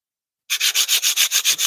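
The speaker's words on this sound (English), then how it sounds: "Going through the relentless task of sanding the life out of it" Rhythmic sanding of a carved wooden spoon with a spiral handle, about ten quick back-and-forth strokes with a steady scratchy rasp, close and fairly loud after a brief silence.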